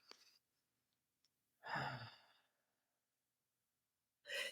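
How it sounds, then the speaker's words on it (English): A slow, drawn-out exhale during a breathwork exercise, one long airy breath near the microphone following a short inhale, then quiet before another breath begins. "the exhale basically would be kind of 2 to 3 times as long as the inhale"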